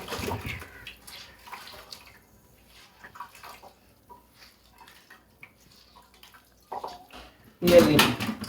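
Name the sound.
squeezing water out of boiled radish greens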